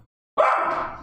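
A dog gives one close, loud bark that trails off after a brief silence.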